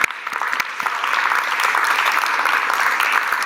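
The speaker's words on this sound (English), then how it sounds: "let's first give our presenters a round of applause" An audience at a TUFH 2019 talks and Q&A session gives the presenters a round of applause: steady, dense clapping from many hands that holds evenly throughout, moderately loud and alone without speech.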